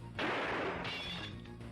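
Glass shatters in an action shootout from a 1991 film, a sudden loud crash followed by a sustained spray of breaking shards over a low background rumble.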